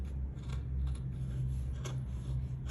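Scissors notch fabric for a sewn gown at a sewing table, giving soft, close snipping and rubbing sounds over a low steady hum from nearby equipment.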